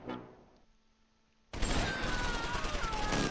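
Sustained medium machine gun fire in Close Combat IV, a World War II battle near Baugnez in December 1944, bursting in loud and dense after a quiet stretch and continuing without pause to the end.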